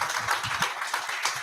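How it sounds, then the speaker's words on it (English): Crowd applause, a steady wash of many hands clapping at moderate volume, with no voices standing out. "A round of applause again for the cerebral Professor Edem Okon."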